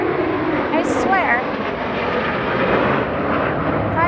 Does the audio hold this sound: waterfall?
no